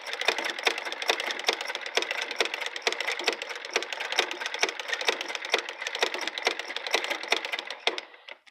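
A Singer Model 237 sewing machine fitted with a flower foot stitches fleece in a fast, even run of close mechanical clicks and taps, steady for several seconds before slowing to a stop.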